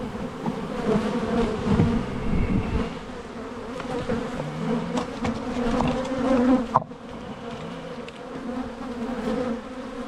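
Dense, steady buzzing of many honeybees, mostly nurse bees, close by, a busy droning hum that never lets up.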